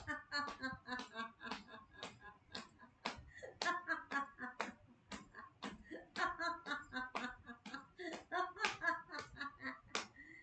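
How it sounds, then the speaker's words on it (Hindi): A laughter yoga group claps hands in a quick dholak-style rhythm, the sharp claps arriving in uneven patterned bursts with soft laughing voices mixed underneath. "हम हंसते हंसते ढोलक ताली बजाएंगे।"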